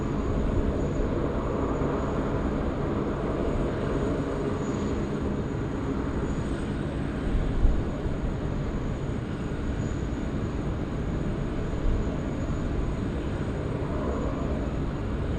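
A Qantas airliner takes off from runway 16 right at Sydney Airport, a continuous loud broadband engine roar holding steady throughout with a few slight swells, no voices heard.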